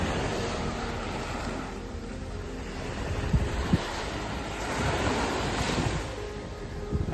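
Waves wash onto Sok San Beach on Koh Rong, Cambodia, at sunset in a continuous swelling surf with a light wind rush and a couple of soft knocks, and no one speaks.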